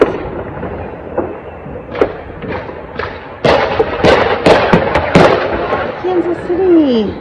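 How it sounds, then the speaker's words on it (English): Distant fireworks over Kansas City pop and thud from a back porch, a cluster of sharp bursts in the middle of the clip, with someone talking and exclaiming throughout. "Yay! Fireworks!"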